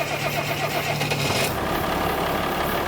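A tractor engine on a cattle farm cranks briefly and catches, settling into a steady, fairly loud mid-pitched idle that carries on alone without talk.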